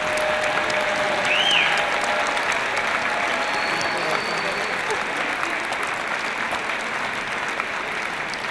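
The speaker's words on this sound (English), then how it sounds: "Let's give them all a big round of applause." Applause from a large audience at a UCLA doctoral hooding ceremony, a dense, steady wash of clapping that fills the hall and holds at an even level throughout.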